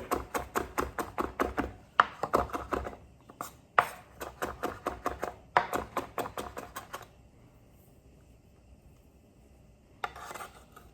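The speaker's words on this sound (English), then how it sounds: "Now I'm just going to go ahead and chop up my parsley." Knife chopping fresh parsley on a cutting board, a quick steady run of crisp close taps in bursts, pausing briefly between volleys, then falling quiet before a final short burst.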